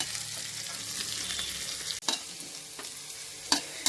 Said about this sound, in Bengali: দিয়ে একটু নাড়াচাড়া করতে হবে যতক্ষণ না এটার কাঁচা ভাব কেটে যায়।